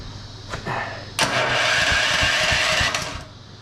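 The small engine of a TrailMaster Mini XRX go-kart cranks briefly on its starter, stumbles, then catches and runs with a steady, rough mid-pitched drone at close range before easing off.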